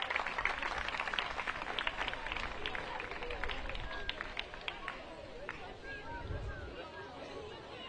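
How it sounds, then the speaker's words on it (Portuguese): Applause for the referee team at a trophy ceremony after a women's football tournament final between SL Benfica and Estoril Praia: scattered clapping amid crowd chatter and hubbub, steady through the moment and tapering slightly toward the end. "salva de palmas para a equipa da arbitragem"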